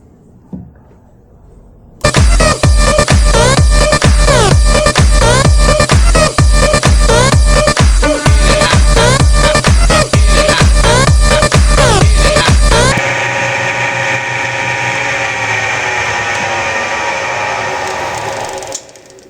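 A lathe turns an engine piston for a model aircraft CB engine, cut with a carbide-tipped tool: a loud, steady machining drone with rapid rhythmic ticking, then a smoother whirring run-down as the cut stops.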